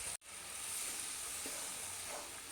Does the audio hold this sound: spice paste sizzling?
yes